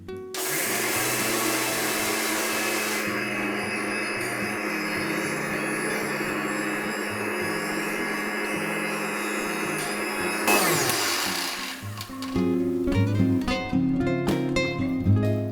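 An electric mixer grinder whirs steadily as it grinds green chillies dry without water. The motor drones loudly for about ten seconds, then cuts off, leaving clattering and handling noises.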